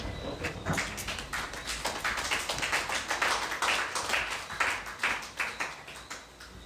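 A church congregation claps together in a steady, rhythmic burst of applause acclaiming Jesus during a sermon, many hands close and continuous with no talk over it.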